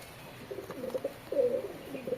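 Pigeons in a home loft give soft, low, rolling coos, with a couple of phrases close by and no talk over them.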